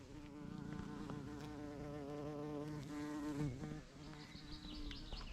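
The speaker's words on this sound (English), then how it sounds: "Look, there's a big bumblebee." A large bumblebee buzzes close by at an abandoned castle site in a Scottish forest, a low wavering drone that shifts in pitch as it moves around, steady and fairly faint without voices.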